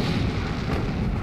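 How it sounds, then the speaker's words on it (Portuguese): Heavy naval gunfire from the 127 mm guns of the destroyer USS Laffey, a dense, continuous roar of blasts and rumbling booms filling the whole stretch, loud and with no voices over it. "Os canhões de 127 milímetros do USS Laffey abrem fogo."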